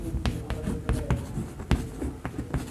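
Pen writing on paper during a Bengali lesson for class three, with scratchy strokes and taps in an irregular rhythm, close and fairly loud, no voice.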